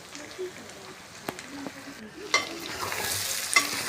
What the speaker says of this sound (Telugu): మిక్స్ చేసుకున్నాక కొంచెం ఇలా ఫ్రై లాగా వచ్చింది చూడండి.